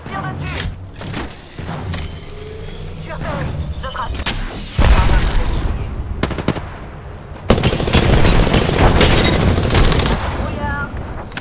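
A heavy Apex Legends firefight: bursts of machine-gun fire, scattered single shots and deep booming thuds, loud and close, with a sharp surge in the middle. Voices talk over parts of the exchange.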